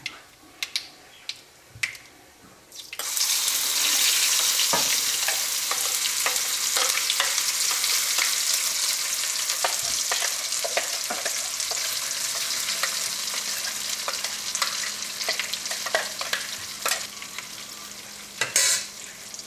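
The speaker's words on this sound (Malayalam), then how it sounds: "നമ്മൾ അരച്ചെടുത്തേക്കണം നമ്മുടെ മസാല ചേർക്കാം." Ground masala paste for egg kurma fries in hot oil and is stirred in a pan. A few clicks come first, then a loud, continuous sizzle with scattered spatters and scraping that holds steady nearby.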